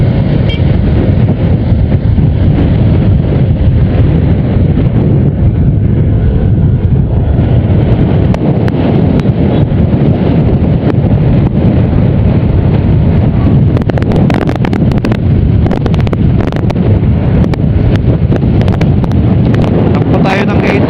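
Loud wind buffets the microphone with heavy, continuous rumbling and gusting for the whole stretch, masking any other sound.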